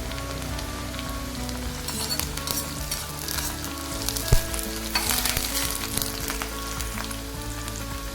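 Hot oil sizzles and crackles as curry leaves and chopped onions fry in a pan for a cluster bean coconut dish, with stirring scrapes and a sharp clink midway, no voices.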